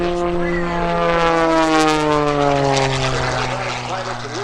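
A Cap 580 aerobatic airplane with a 580 cubic inch engine drones loudly at an airshow, its propeller pitch sliding downward as it passes, with an announcer's voice running over it.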